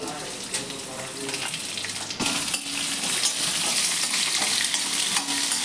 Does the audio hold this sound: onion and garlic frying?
yes